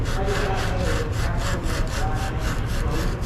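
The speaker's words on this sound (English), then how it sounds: "I'll take a little scotch bright pad or something, see if we can get some of it off." A Scotch-Brite pad scrubbing rust off a pressure washer pump, making fast, rhythmic rasping strokes that are loud and continuous at close range.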